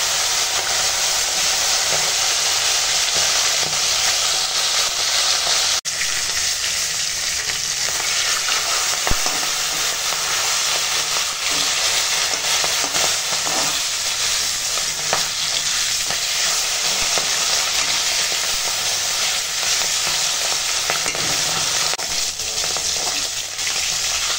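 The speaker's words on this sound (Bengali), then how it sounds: "আর এখন সর্ষের তেল গরম হয়ে গেছে, মাছ ভেজে নেব" Hilsa fish head fries in hot mustard oil, a steady close sizzle and crackle that runs without a break for the whole stretch, with no voices over it.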